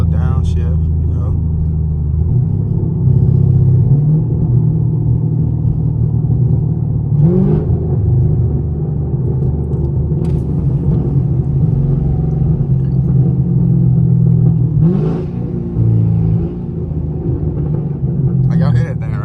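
A 2016 Chevrolet Camaro SS with catless straight pipes idles with a deep, loud rumble, punctuated by sharp throttle blips during downshifts at intervals, while someone talks over it throughout.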